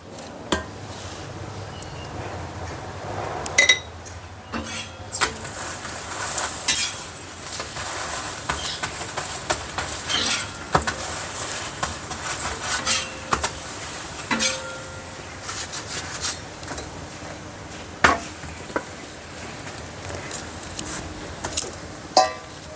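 Thepla flatbread cooking on a griddle, with a steady soft sizzle broken by frequent sharp clinks and taps of a utensil against the pan, continuing for about twenty seconds without talking.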